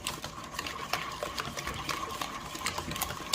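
Batter being mixed by hand in a bowl, a steady close scraping and swishing with quick irregular ticks of the utensil, no voices.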